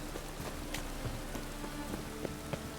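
In the video game The Witcher 3: Wild Hunt, steady rain falls as a soft, even hiss, with scattered faint drops tapping on surfaces.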